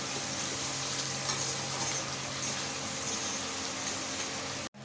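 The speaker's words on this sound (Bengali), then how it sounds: "একটু নুন, একটু হলুদ অল্প করে দেবেন পরিমাণ মতো পেঁয়াজটা ভাজার জন্য এখন।" Onions frying in a pan with salt and turmeric for chicken kosha, a constant close sizzle with soft crackle and a brief stir at the end, no talking.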